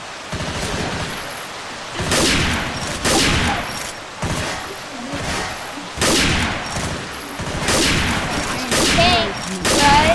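Rapid bursts of gunfire from a teammate in Left 4 Dead 2 on a custom map, repeated volleys and single shots crackling loudly across the whole stretch with brief gaps between them.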